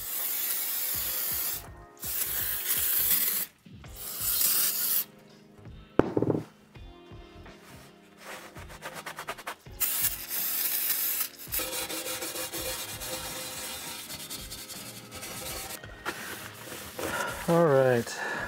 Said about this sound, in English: Let's go ahead and scrape down some of the stuff along the edge here.